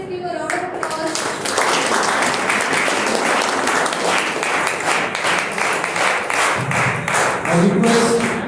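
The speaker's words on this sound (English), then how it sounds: "Everyone please give a round of applause." Sustained applause from a crowd at an international symposium, steady dense clapping throughout, with a few voices heard faintly near the start and end.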